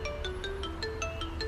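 A phone rings with a repeating series of short, evenly spaced electronic tones over a low background hum, moderately quiet and with no talking.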